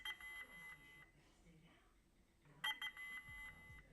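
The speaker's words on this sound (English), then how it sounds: "Don't know what that beeping is." Electronic beeping during a game played on a Bush radio-style device, short repeated high tones in bursts, faint and separated by a quiet gap, with soft speech underneath.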